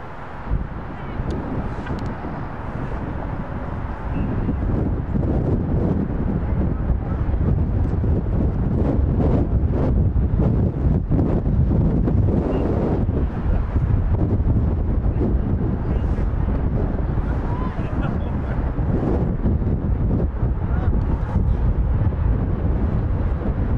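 Strong wind buffets an outdoor microphone at a soccer field during a match, a constant loud low rumble with gusty bursts that never lets up across the whole stretch.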